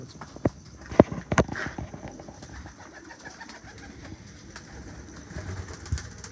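Pigeons at a loft give soft cooing and fluttering, with a few sharp knocks and taps standing out early against a low, steady background.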